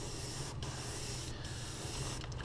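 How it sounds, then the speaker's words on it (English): An airbrush sprays paint onto the back and sides of a hand-painted perch-pattern crankbait fishing lure, a steady close hiss running the whole time with a few very brief gaps. "And we'll spray just on the back and some on the sides."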